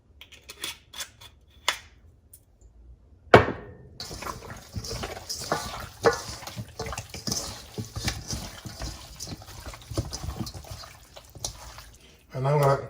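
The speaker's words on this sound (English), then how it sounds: "So I'm using some organic red wine vinegar." Organic red wine vinegar is poured for a red wine chicken marinade, a wet, splashing liquid stream running for several seconds after a few scattered knocks and clinks, fairly close and moderately loud.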